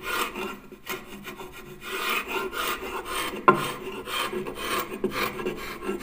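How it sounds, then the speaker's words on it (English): Paint scraper rasping over adhesive on wooden folding loft stairs, repeated close scraping strokes of uneven length with a sharp knock partway through, no talking. "got my paint scraper, and now I can just draw it over"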